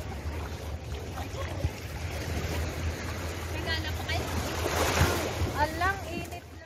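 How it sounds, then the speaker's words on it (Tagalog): Sea waves at Repulse Bay beach in Hong Kong, a steady wash of surf with a low rumbling undertone, surging louder midway, while people talk nearby. "At nalumalakas yung alon."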